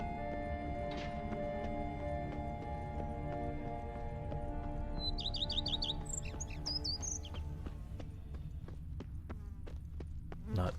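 Birds in a game chirp in a quick high twittering burst midway, moderately near, over steady ambient music and scattered clicks and taps.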